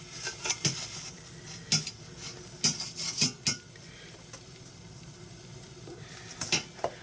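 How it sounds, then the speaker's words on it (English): Two pounds of fresh green beans tossed into a hot Instant Pot on the sauté setting, giving a quiet sizzle broken by several sharp clinks and scrapes of stirring against the pot. "I've got it on saute because I wanted it to get hot first"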